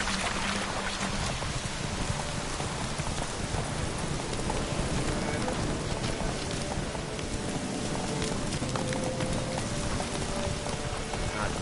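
Hooves clip-clop at a steady galloping rhythm throughout, a horse running in The Witcher 3: Wild Hunt, set against a dense bed of rain-like noise and game ambience.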